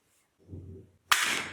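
A toy cap gun revolver made in China fires once, a sharp loud crack that follows a softer low mechanical click, alone with no talking.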